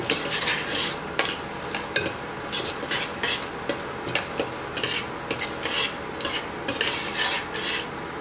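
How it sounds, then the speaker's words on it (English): Whole cumin, cloves, cardamom, cinnamon stick and star anise fry in oil for a prawn pulao, with repeated clinks of a utensil stirring against the pan over a soft sizzle, without speech. "I have cumin, cloves, cardamom, cinnamon stick and a star anise, and fry it just for a couple of minutes."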